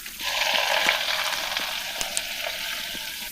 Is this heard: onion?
yes